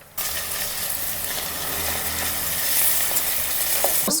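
Green chili, onion and mint drop into hot oil for a village-style chicken samosa filling, bursting into a loud, close, continuous sizzle that holds steady with faint clinks.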